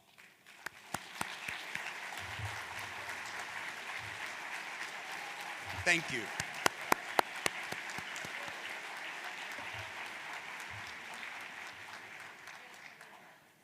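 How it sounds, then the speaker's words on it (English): At a national conservation districts annual meeting, an audience applauds members of the Ohio Federation and Host Committee with steady, moderately distant clapping that swells and fades, a few sharper claps standing out, and a voice briefly saying thanks. "please stand and let's give them all a big round of applause"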